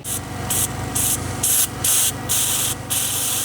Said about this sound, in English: If you don't go through and clean in the middle, the gun gets clogged and you just start spraying gloop everywhere.